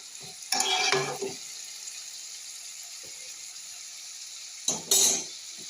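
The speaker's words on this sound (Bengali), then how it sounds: "আলু গাজর ভাজা বসিয়ে দিয়েছি ভালো করে ভেজে নেব" Potatoes and carrots fry in a pan under a steady low sizzle, with two short bursts of louder stirring and scraping, close and without talk.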